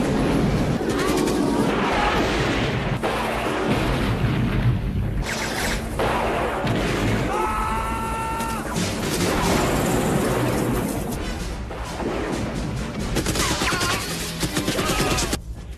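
Gunfire and bomb blasts from a helicopter attack on a prison camp in an action film, a dense, loud, continuous barrage of shots and crashes with mechanical whirring and film score layered throughout.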